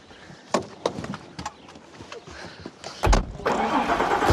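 A car door thuds and clatters before the engine starts with a rough burst, then settles into a steady running rumble as the car pulls away, fairly close with no speech.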